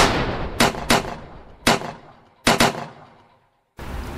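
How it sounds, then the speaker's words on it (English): Gunfire aimed at a monster in a cave, heard as several loud separate sharp shots in irregular bursts, some in close pairs, each trailing off into echo, with a brief silence before a final burst of noise. "Comrades, shoot that thing!"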